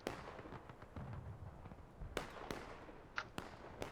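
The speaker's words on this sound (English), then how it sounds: "Some CSA artillery guys are gonna go attack the Union artillery." Artillery fire in the Civil War video game The Blue and the Grey, heard as faint, distant pops and bursts scattered irregularly over a low background rumble.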